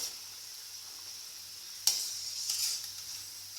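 Moong dal vadai frying in oil over a low flame give a steady, soft sizzle, with a brighter crackling surge partway through that keeps bubbling to the end.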